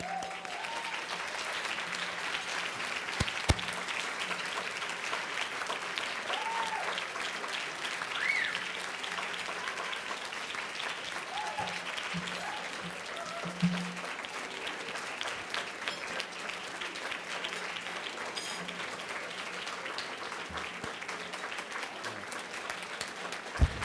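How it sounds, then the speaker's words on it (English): Sustained audience applause fills a hall at a medical women's association awards ceremony, steady dense clapping throughout with no break. "Would you please give me applause?"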